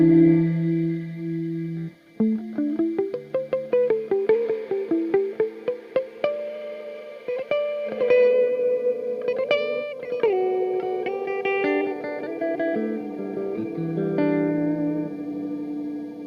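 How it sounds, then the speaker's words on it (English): A Dreadbox Darkness reverb pedal set to a big reverb washes a played synth or guitar line into long, shimmering tails, with notes sliding and stacking into a dense ringing wash, no talking. "So if we're going, for example, quite a big reverb,"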